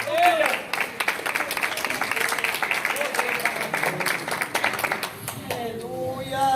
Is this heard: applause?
yes